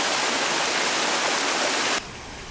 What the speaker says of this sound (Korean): 경사가 심해서인지 물살이 더 거세고 하얀 거품을 만들며 힘차게 내려옵니다